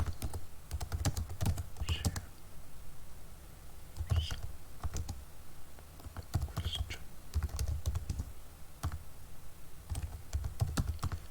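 Someone types a message on a computer keyboard in short bursts of quick, close clicking keystrokes separated by brief pauses, with faint background hum and no talk.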